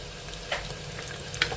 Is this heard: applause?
no